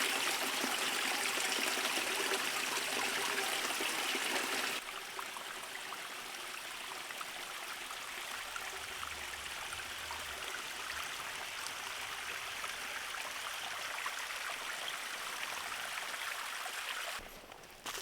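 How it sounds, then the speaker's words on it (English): Spring water drains out of a cave and runs down a hillside, a steady rushing trickle heard close at first, then continuing a little softer with no talk. "So here we have the cave where that pond drains out into the spring flowing down a hillside"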